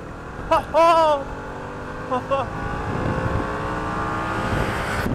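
A Harley-Davidson Pan America motorcycle engine revs up toward 9,500 RPM, its pitch climbing steadily over a few seconds after a couple of short, sharp bursts, with some wind noise.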